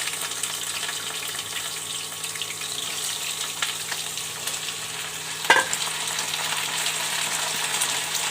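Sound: potatoes frying in oil with nigella seeds and dried chilli

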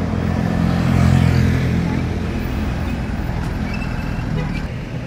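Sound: city bus approaching in street traffic

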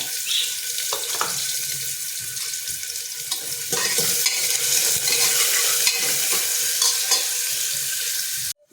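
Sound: onion and curry leaves sizzling in oil

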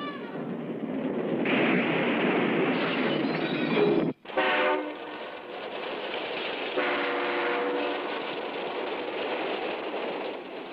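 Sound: train passing over railroad tracks

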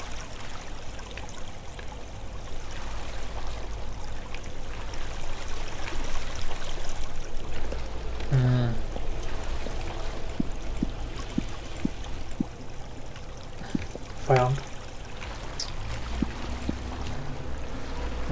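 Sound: flowing water sounds in the video game Minetest

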